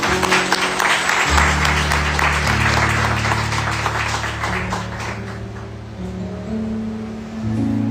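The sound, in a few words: congregation applause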